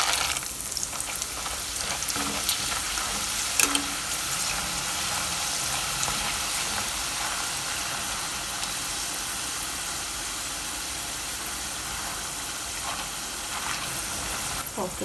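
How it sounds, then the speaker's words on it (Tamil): Dried sundakkai (turkey berries) frying in a pan give a continuous loud hiss with a few faint clicks and stirring knocks early on, steady throughout, without any talk. "நான் கொஞ்சம் இந்த ட்ரை இந்த சுண்டக்காய் அதை ஃப்ரை பண்ணி எடுத்துக்கலாம்"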